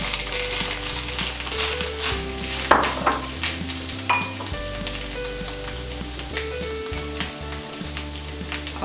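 Cooked dal for whole wheat puran poli goes into a pan and is stirred, a steady sizzle with scraping strokes and occasional clinks of the spoon, close and continuous with no talk.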